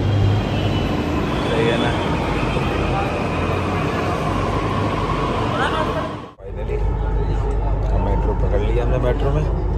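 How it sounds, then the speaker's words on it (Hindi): Steady rumbling rail noise from a moving Delhi Metro train, loud and continuous, with a brief dropout partway through and a person speaking over it. "ये हमारी मेट्रो आ चुकी है, ये हमारी मेट्रो है।"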